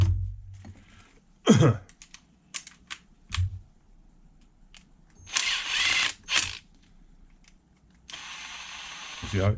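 A screw is driven slowly by hand into the chassis of an HPI Savage XL nitro RC car, giving scattered small clicks and ratcheting bursts at close range, with pauses and some brief talk between them.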